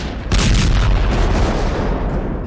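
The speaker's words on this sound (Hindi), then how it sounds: "रूस में अब शुरू हुए फ्रांस की स्कैल्प मिसाइल के धमाके।" A loud, close explosion from a French Scalp missile strike in the Russia-Ukraine war: a sudden booming blast followed by a dense roaring rumble that holds for about two seconds before easing slightly.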